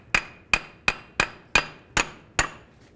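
Seven sharp, ringing hammer taps on a steel steering knuckle being separated on a 2002-2009 Chevy Trailblazer, struck at a steady pace of about two per second, close and clear with no talking.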